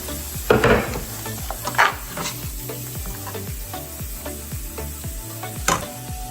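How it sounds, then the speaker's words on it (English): Chopped onions sizzle in melting butter in a pot for broccoli cheddar soup, a close crackle mixed with scraping stirs and light knocks. "by melting the butter, and I'm gonna add the onions while the butter is being melted."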